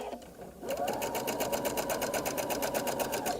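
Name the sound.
sewing machine stitching a shirred top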